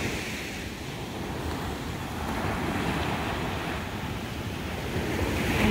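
Ocean surf rolls steadily onto the rocky California coast below cliffside houses, a continuous wash of breaking waves with gusty wind buffeting the microphone.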